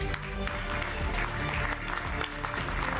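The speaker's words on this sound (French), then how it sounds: "On peut les applaudir." Audience at a conference round-table applauding panel guests as they take the stage, a soft, steady spread of clapping heard from some distance with a faint hum beneath it.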